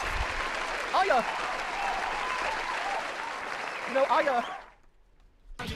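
Crowd applause from a livestream audience, steady and fairly loud for several seconds, with whoops and cheers rising over it, then cutting off abruptly into near silence.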